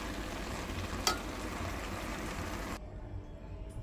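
Soya chunks pulao stirred in a hot pan: a steady sizzling hiss with one sharp metallic clink of the utensil against the pan, then a quieter, duller simmer near the end.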